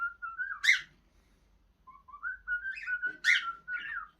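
A pet bird, a male calling to its mate, gives clear rising whistled notes in two short bursts, each ending in a sharp chirp, close and loud against a quiet room.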